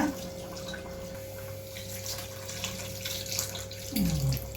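Water is poured into a pot of chicken gravy, giving a steady, close splashing and trickling sound that continues throughout, with a brief, brighter burst near the end.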